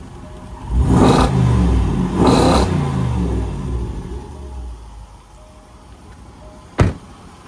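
A black supercharged 5.0 V8 Range Rover Sport with about 115,000 miles gives two loud, close revs that fade into idle, followed by a sharp door thump.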